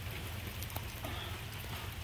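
Steady light rain patters over a cottage-style potager garden with potato plants and succulents, a soft even hiss with occasional distinct drops, no voices.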